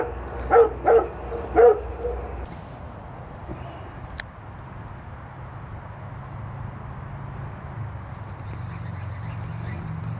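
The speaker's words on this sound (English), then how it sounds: "It's a lot of noise for a little puppy dog." A small puppy yaps three times in quick succession near the start, fairly close and sharp, then falls quiet beneath a steady outdoor hum at a fishing spot.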